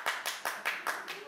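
A small live audience at a wine show claps briefly in a few sharp bursts of hand claps, close and light, lasting about a second.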